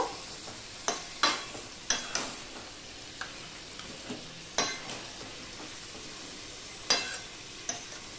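Fish heads stirred with Malabar spinach in a pan, a series of sharp scraping strokes and clinks at irregular intervals over a faint sizzle, fairly close, with no talking.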